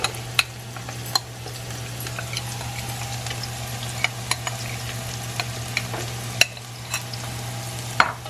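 Masala going into frying Guyanese duck curry: a steady low sizzle under scattered metallic scrapes and clicks of a spoon stirring the pot, with no voices.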